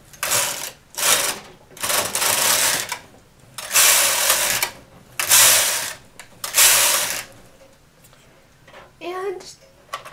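A knitting machine carriage knits rows of a chunky woven cable piece, making repeated loud mechanical rattling sweeps about a second long with short pauses between them, followed by a brief faint voice.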